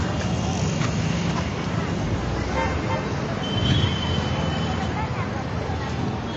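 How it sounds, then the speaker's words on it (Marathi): Jammed road traffic at an unsignalled junction in Mangaon, India: a dense, constant roar of engines with car horns tooting in between, heard close and fairly loud, and voices mixed into the din. "माणगाव सिग्नल नसल्यामुळे इथं जाम होते ट्रॅफिक"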